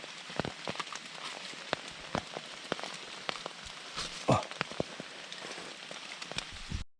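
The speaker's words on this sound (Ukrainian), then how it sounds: "Дощ паде і не перестає." Rain falls in a forest, with scattered drops pattering and tapping on leaves and surfaces in irregular bursts, fairly quiet and close, with one louder splash near the middle.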